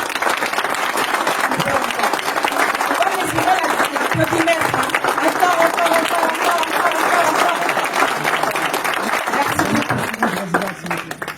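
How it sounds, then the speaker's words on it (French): An audience at a political party gathering applauds a speaker, with steady loud clapping lasting several seconds, voices and crowd noise mixed in before it tapers off. "Veuillez l'applaudir, s'il vous plaît."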